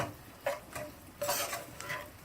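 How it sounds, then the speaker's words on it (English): A spoon scrapes and stirs a Sazon-seasoned mixture cooking in a pan, making a few faint, brief scrapes and clinks over a soft sizzle, with no one talking. "I'm just going to stir this up and kind of let it cook for maybe about 2 minutes."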